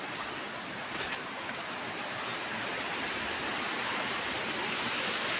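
A mountain waterfall roars as a dense, constant wash of falling water, steady and full throughout with no voices over it.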